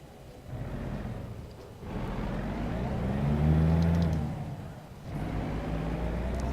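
A truck engine in the video game American Truck Simulator drones steadily, swelling in a low rev surge midway and then settling back, loud and continuous with no talk over it.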